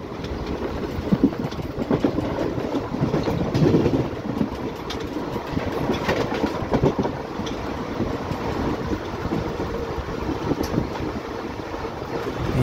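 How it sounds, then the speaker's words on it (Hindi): Passenger train running at full speed between Sabarmati and Mahesana, passing through Khodiyar station without stopping: a steady, loud rumble of wheels and carriages with continuous rattling and clatter, heard from on board. "यहाँ पर हमारी ट्रेन खोड़िया रेलवे स्टेशन को स्किप कर रही है अपने फुल स्पीड में"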